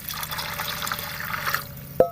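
Water poured into a cooking pot of washed, soaked white chickpeas, a steady soft splashing trickle for about two seconds that ends with a sharp clink near the close.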